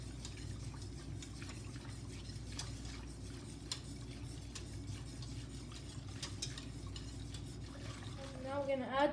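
Cream for basbousa being stirred in a pot on the stove, a soft continuous swishing under a low steady hum, quiet and close, with a faint voice near the end.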